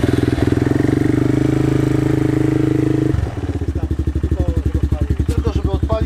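Suzuki LTZ 250 quad with a Yoshimura exhaust, running loud and close: a steady droning idle that shifts into a rapid, pulsing thump of firing strokes.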